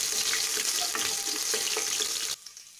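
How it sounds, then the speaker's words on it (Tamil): A large onion and two dried red chillies hit hot oil in a pan for Chettinad mutton curry, giving a loud, bright sizzle with crackles and stirring scrapes that abruptly drops to near silence near the end. "1 பெரிய வெங்காயம், 2 வரமிளகாய் சேர்த்து இது நல்லா தாளித்து விட்டுக்கலாங்க"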